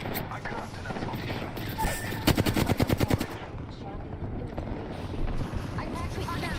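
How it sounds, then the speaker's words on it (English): Video game gunfire in a squad battle royale match: a fast burst of automatic shots rattles out in a tight rhythmic string, loud and near, with game ambience and a voice talking around it. "I am taking fire."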